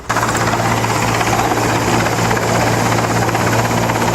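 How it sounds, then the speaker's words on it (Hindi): A helicopter hovers steadily during a rescue of a man stranded in floodwater in Jamnagar, Gujarat, its loud, constant rotor thrum and whine continuous throughout with no talk. "सैलाब के बीच फंसे युवक को हेलीकॉप्टर से रेस्क्यू किया गया।"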